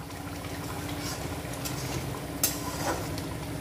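Fried duck eggs go into boiling spiced curry water, bringing a soft bubbling and sizzle with a brief splash or clatter near the middle, steady and moderately close.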